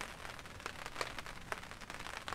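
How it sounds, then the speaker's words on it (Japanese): Heavy rain falls steadily at a hilltop campsite during a sudden squall, a soft, even hiss with scattered sharper drop patters, faint and continuous with no voices. "雨ひどいな"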